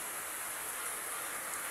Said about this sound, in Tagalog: Maulan na morning sa amin